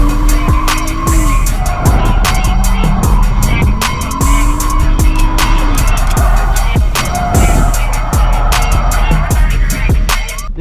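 A BMW 135i drifting around a track at full tilt, its tires squealing in long rising and falling howls over a loud, continuous engine roar.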